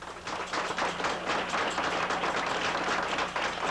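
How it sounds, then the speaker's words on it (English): Diners applaud in a Greenwich Village restaurant during a peace treaty celebration, a steady crackle of many hands clapping, moderately loud and continuous in the room. "applause broke out"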